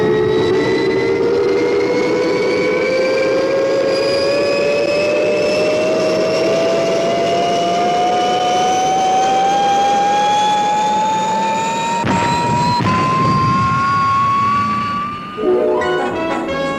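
Fireball XL5 spaceship lifting off: a loud, steady engine roar with a whine rising slowly in pitch, holding for about twelve seconds before a burst of louder rushing noise and a brief clattering finish.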